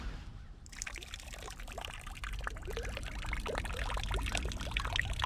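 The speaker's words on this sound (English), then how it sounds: "I'm gonna actually let some of the juice of this corn out." Juice is let out of an opened can of corn beside a river in winter, a soft continuous pour and trickle that begins after a brief quiet moment and carries on faintly to the end.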